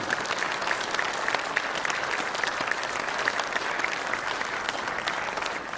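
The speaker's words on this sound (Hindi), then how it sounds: "इस बात के लिए करतल ध्वनि बनती है" An audience at a devotional celebration claps steadily, a dense, even wash of many hands throughout with no pauses.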